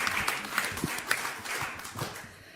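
Applause from the audience at a conference opening a pediatric pain and palliative care centre, a soft, patchy clapping that swells and thins over a couple of seconds, heard from within the room.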